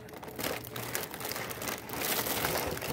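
Plastic packaging of a Goldfish crackers 12-pack crinkles and rustles close by in quiet, irregular bursts, a soft continuous crackle handled for a few seconds with no talking.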